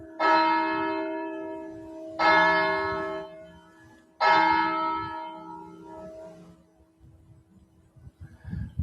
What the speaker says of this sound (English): You can hear the bell announcing the 5 o'clock.